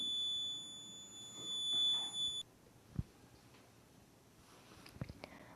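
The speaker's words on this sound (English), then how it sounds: "At high temperatures, the LED and buzzer are on." A steady high-pitched electronic buzzer tone from a temperature-triggered alarm on a microcontroller assistive device sounds for about two seconds, then cuts off, leaving quiet background with a couple of faint clicks.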